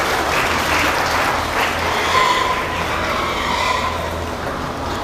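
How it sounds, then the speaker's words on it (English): Steady applause from an audience at a showmanship competition carries on throughout, a dense wash of clapping at moderate volume with a faint low rumble beneath. "Let's give them all a round of applause for their hug showmanship."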